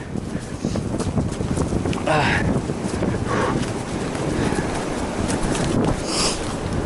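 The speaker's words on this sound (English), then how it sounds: "the wind definitely makes it feel a lot colder" Strong wind on a mountain section of the Foothills Trail roars across the microphone in a steady, loud, broadband rush that holds for the whole stretch with no pauses.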